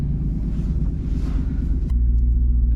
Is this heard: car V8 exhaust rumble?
yes